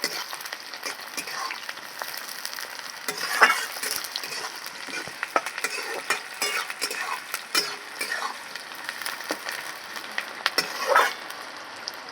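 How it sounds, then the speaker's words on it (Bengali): Chopped onions frying in a pan with whole garam masala, a steady crackling sizzle broken by occasional stirring scrapes and clicks. "কুচিয়ে রাখা পেঁয়াজগুলো দিয়ে দিচ্ছি পেঁয়াজগুলো একটু লাল করে ভেজে দেবো"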